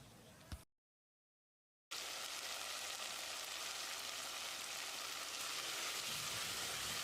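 Tomato paste with a quarter teaspoon of turmeric sizzles steadily in a pan for a chicken curry-leaf kulambu, a soft continuous frying hiss that starts after a brief silence and runs on alone.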